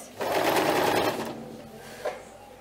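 A sewing machine runs a short steady burst stitching a seam on a fabric bread basket, then slows and stops, followed by a small mechanical click.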